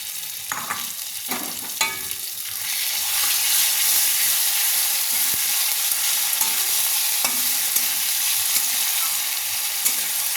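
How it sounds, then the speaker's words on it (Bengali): Marinated prawns hitting a pan of reddened onions and frying, a bright steady hiss that swells after a few initial clatters and spatula scrapes, with occasional stirring knocks throughout. "চিংড়িটা একটু ভেজে নিয়েছি"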